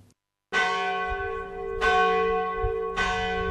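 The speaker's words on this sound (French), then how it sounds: "Tous ceux qui habitent ici autour de l'église sont mécontents d'entendre cette cloche-là sonner l'Angélus" A church bell ringing the Angelus strikes three times at slow, even intervals, each ringing tone rich and sustained, decaying into the next stroke, with no voices over it.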